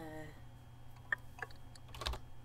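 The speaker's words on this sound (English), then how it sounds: "I can hear the typing." Keyboard typing in the video game Emily is Away: a few scattered key clicks at moderate level, spaced irregularly over a low steady hum.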